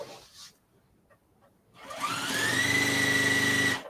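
A sewing machine stitches tote bag fabric: after near-silence, the motor whirs up and settles into a steady, close mechanical hum with a rising whine that runs to the end.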